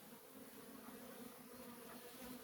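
A faint, steady buzz of honeybees flying around their hive in winter sunshine, with no voices.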